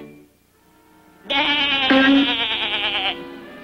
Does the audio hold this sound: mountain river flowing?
no